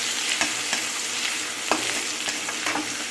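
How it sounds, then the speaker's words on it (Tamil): Crushed ginger and garlic sautéing in a pan on low gas, giving a steady close sizzle with repeated light scrapes and taps of a stirring spoon and no talking. "இஞ்சி பூண்டு நம்ம நசுக்கி வச்சு லைட்டாக வதங்கிடுச்சு பாருங்கள்"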